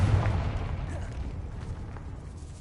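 A Confringo blasting spell bursts in the Hogwarts Legacy video game, a deep low boom at the start that rumbles and fades over the following seconds, with a faint voice in the background.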